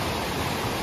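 Water pouring out through a breached pond embankment, a dense, even rushing roar close by that fills the whole moment without pause or voices.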